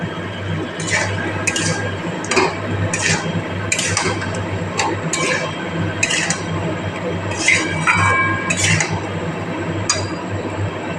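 Potatoes and pointed gourd are stir-fried in a pan. A utensil strikes the pan in a series of sharp, bright clinks and scrapes over a steady low hum, close by, while someone speaks faintly.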